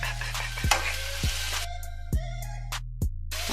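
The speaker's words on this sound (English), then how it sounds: "Yes, listen to that sizzle." Chicken fried rice ingredients sautéing in a hot pan, a steady broadband sizzle with a few sharp utensil clacks and stirring scrapes, close and moderately loud, with no talking.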